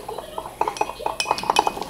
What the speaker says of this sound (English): You're going to have to mix it up, obviously. Yes, which is why I have a teaspoon.